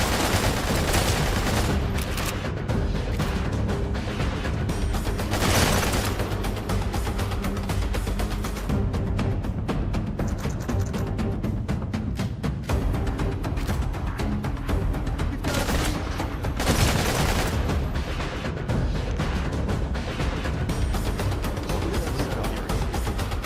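Video game gunfire with hip-fire shots rattles in dense, loud bursts and rapid volleys, nearly continuous over a background of game noise, with no talking.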